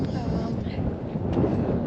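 Steady wind buffeting the microphone on a cold, chilly day, a continuous low rumble that never lets up across the whole stretch.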